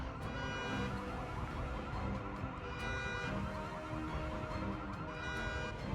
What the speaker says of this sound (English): We have a second car alarm going that I didn't quite get.